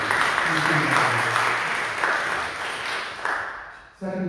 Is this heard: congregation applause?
yes